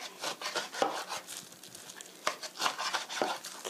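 Knife cutting fermented kimchi into bite-size pieces on a board, a quick series of close, soft rasping chops and scrapes at an irregular rhythm.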